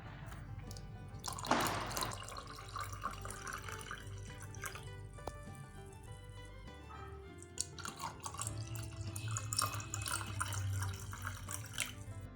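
Water is poured into homemade orange squash, a steady splashing, trickling flow with drips that runs continuously at close range with no talking.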